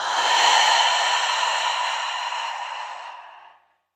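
A single long, deep exhale during a guided breathing exercise, airy and close, fading gradually over about three and a half seconds into silence.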